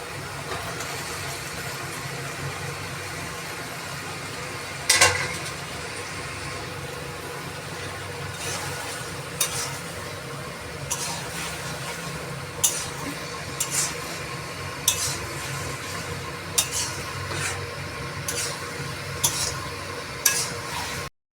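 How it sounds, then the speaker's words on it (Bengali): Meat being stir-fried in a pan with soy sauce and other sauces, cooked without ginger or garlic: a steady low sizzle with sharp metal spatula clinks against the pan at irregular intervals, close and moderately loud. "এবার ভালো করে এই সসগুলো মিশিয়ে কষতে থাকবো এবার আমি মাংসটা দিয়ে দিচ্ছি"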